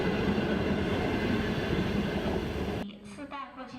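Chinese sleeper train riding the rails, a loud continuous rumbling roar of wheels on track that cuts off abruptly near the end, giving way to a quieter interior with faint voices.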